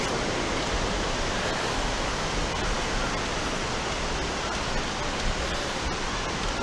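The waterfall at Watson Mill Bridge State Park in Comer, Georgia gives off a dense, unbroken rushing roar that stays steady and loud throughout.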